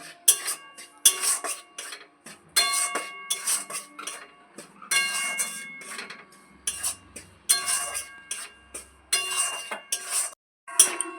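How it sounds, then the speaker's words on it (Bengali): Wheat flour stirred in a pan over heat, a utensil scraping and clinking against the metal in quick, irregular bursts with brief gaps, close and clear with no talking. "আটাটা হালকা করে গরম করে নিচ্ছি"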